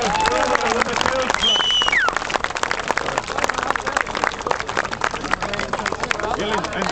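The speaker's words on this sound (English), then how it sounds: "I think we should have a round of applause for the Kells Club" Crowd at a road-racing club event applauding the Kells Club, dense sustained clapping loud and close throughout, mixed with voices and a bit of crowd chatter.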